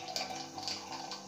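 Purdey's Rejuvenate drink is poured into a glass, a quiet, brief liquid trickle with light splashing.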